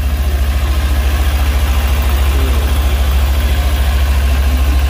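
An old-model Kawasaki Ninja 250 engine idling close by, a loud, steady low throb with a fast, even pulse and no talk over it.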